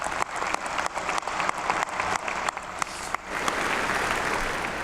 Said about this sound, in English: So President Johnson, you deserve a round of applause for us for your leadership.